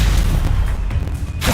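A Stupefy spell cast in the Hogwarts video game, a loud booming blast with a whooshing rush that fills the short moment, swelling again at the end.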